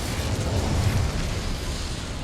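In Hogwarts Legacy, a cast Incendio fire spell erupts as a dense, roaring burst of flame that holds steady and loud for a couple of seconds, with no talk over it.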